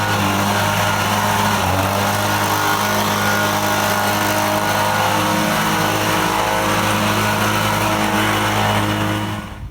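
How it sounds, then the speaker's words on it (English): A gas-powered hand leaf blower runs steadily at close range while clearing dirt from a garage and asphalt driveway, its engine drone constant and loud for about ten seconds before cutting off at the end. "we're using a gas-powered hand blower today"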